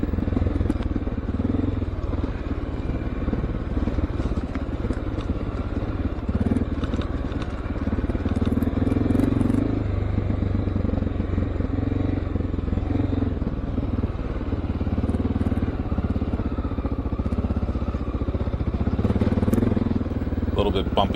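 Honda XR650L dual-sport motorcycle crawling slowly along a bumpy wooded trail over fallen branches and exposed roots, a steady low engine drone with occasional clatter and scraping throughout, close and continuous.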